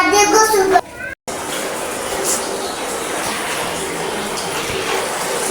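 Water runs steadily into a bath at home as children bathe, a constant rushing hiss with a voice briefly heard at the start before a short gap.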